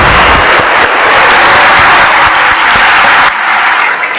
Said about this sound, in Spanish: Vamos a dar un fuerte aplauso por este cumpleaños.